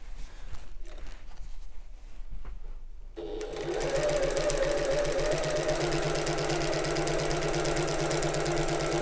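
After a quiet start with a few light handling clicks, a sewing machine starts up and stitches a backpack seam in a rapid, even chatter, loud and close, running steadily to the end.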